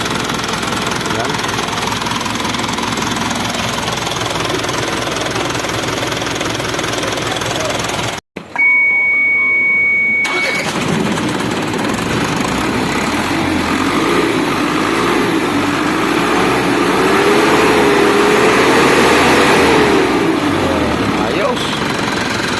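Isuzu 4HF1 diesel engine, converted from semi-electronic to manual, running with a steady loud clatter, breaking off briefly to near silence before resuming and revving slightly, while people talk over it.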